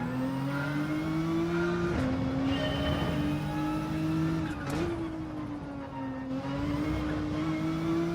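Race car engines in Gran Turismo 7 drone steadily at high revs, with the pitch dipping and climbing through gear changes, plus brief tire squeals, a continuous loud game soundtrack with no talking.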